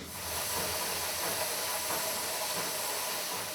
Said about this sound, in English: Did you hear the sound the machine made when it squashed the rubber nuggets into half balls?